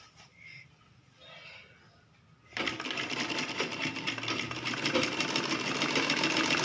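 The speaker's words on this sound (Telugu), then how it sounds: "ఇలా స్టిచ్ చేసుకోవాలి." A sewing machine stitches a baby frock, starting abruptly after a quiet, faint stretch and then running steadily and loudly to the end, growing slightly louder near the close.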